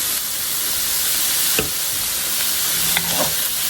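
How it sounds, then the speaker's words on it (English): Leftover rice stirred in a hot pan, a steady close sizzling hiss throughout with a couple of soft scraping strokes of the spoon, no talking. "Go ahead and stir that together for a couple of seconds"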